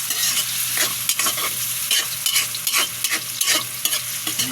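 Tomatoes frying in a pan for sautéed sardines, stirred with brisk, repeated scraping strokes over a constant close sizzle.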